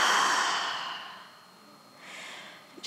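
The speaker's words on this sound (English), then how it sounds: "One last big breath in. Hold. And exhale out." A deep breath exhaled out through the mouth during a yoga session, a long soft airy sigh that fades away, followed by a quieter breath in.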